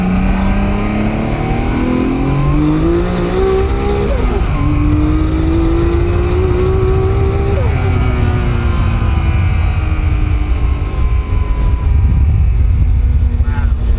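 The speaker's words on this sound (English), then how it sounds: "You hear that thing? That's a race motor." Smokey Nagata's Top Secret highway Toyota Supra with an RB26 race engine revs hard from inside the car, a loud, continuous engine roar with rising and falling pitch sweeps over about fourteen seconds, with voices faintly underneath.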